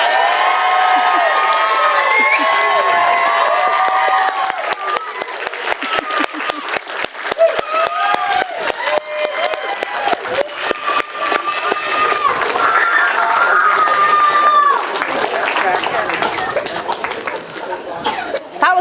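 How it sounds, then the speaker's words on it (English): Wedding guests applaud and cheer right after the couple is pronounced husband and wife, a sustained burst of clapping with whoops, shouts and chatter, swelling again midway before gradually easing. "That was a good round of applause"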